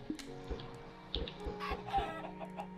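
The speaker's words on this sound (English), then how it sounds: "Don't hit my chickens!" Chickens cluck in a Minecraft game, a few short clucks scattered at an irregular pace, fairly close and soft over a quiet background with no talking.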